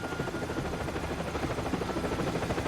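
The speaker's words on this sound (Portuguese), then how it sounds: "Bom, e esse helicóptero?" Helicopter in the video game Max Payne 3, a steady dense rotor and engine roar holding loud and constant throughout, with no voices over it.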